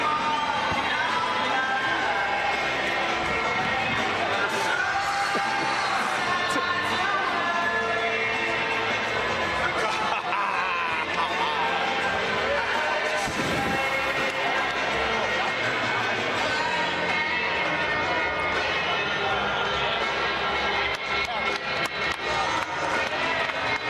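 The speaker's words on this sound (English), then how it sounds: "The crowd upstanding and clapping now as Cinkara surfaces." Boxing arena crowd clapping and cheering at a cruiserweight fight as Cinkara gets back up, a dense, steady roar of applause and voices throughout, with a commentator talking over it.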